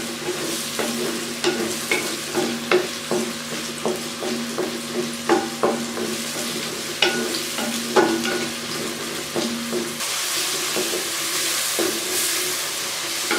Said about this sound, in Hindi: इसी ऑयल में अब मैं प्याज डाल दूँगी। प्याज को मैं पहले थोड़ी देर फ्राई करूँगी।